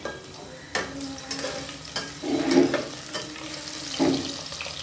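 Several kinds of fritters sizzle in a pan for a home birthday meal, a steady hiss broken by a few clinks of utensils against the pan and bursts of stirring.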